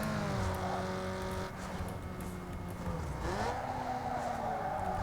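Car in the Need for Speed Underground 2 racing game revving up as it accelerates, engine pitch climbing through gear changes with a brief tire squeal, steady and prominent, with no talking.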